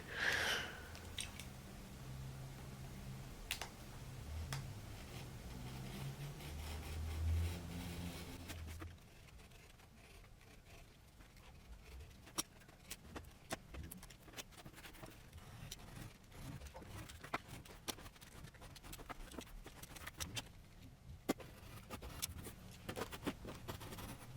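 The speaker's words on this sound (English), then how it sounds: "I'm going to need to cut it with a Stanley knife" A Stanley-type craft knife slicing through thick card for a pop-up carousel book, a run of faint scratchy cuts and scrapes with sharp ticks scattered across a long quiet stretch, close and with no speech.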